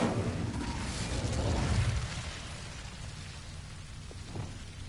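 Incendio fire spell cast in Hogwarts Legacy, a whooshing fiery burst that swells loud in the first two seconds and then fades into a low crackling rumble, with no talk.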